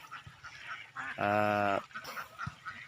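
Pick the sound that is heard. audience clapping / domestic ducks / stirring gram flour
domestic ducks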